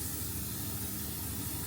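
L'Oreal makeup setting spray hisses out in one steady, close, continuous burst that lasts almost the whole moment and cuts off abruptly at the end.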